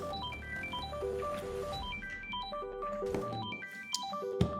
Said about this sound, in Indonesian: Bentar ya, angkat telepon dulu.